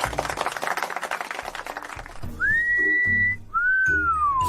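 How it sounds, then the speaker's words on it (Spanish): A person whistles a rising, sustained tone, pauses, then whistles a second, gently falling one. It is clear and close, and the whistling follows a stretch of broadband background noise. "silbar"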